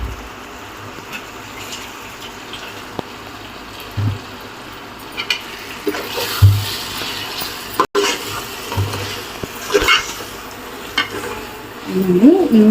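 In a home kitchen, ginger paste and masala for chicken biryani fry and are stirred in a pan, giving a steady sizzle with occasional louder scraping and stirring clatters.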